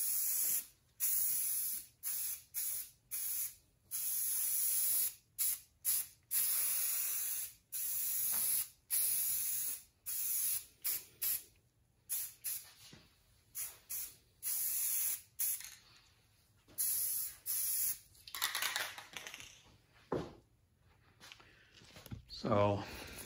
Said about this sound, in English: Actually, I already sprayed a little bit, but then I realized I can set up the tripod and let you guys see